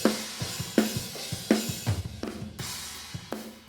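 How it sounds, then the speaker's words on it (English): Heavily compressed cymbals from a drum overhead mix for a session crash and wash in repeated hits, loud and close, with sizzling sustain between strikes and no talking. "Sorry, just cymbals only."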